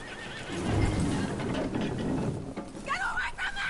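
Horse whinnies and hooves clip-clop in Red Dead Redemption 2, with a loud whinny early, steady hoofbeats throughout, and a rising, wavering neigh near the end.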